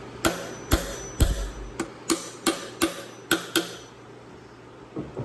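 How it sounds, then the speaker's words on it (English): A claw hammer strikes repeatedly in a garage, about ten sharp, fairly loud knocks at a steady pace with short pauses, then two softer taps after a brief gap. "Don't be judging on my claw hammer neither."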